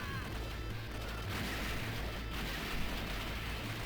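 Enemy gunfire in the Neo Geo arcade shooter Shock Troopers: a steady, dense wash of shots and explosion-like crunches, moderately loud and continuous with no pauses.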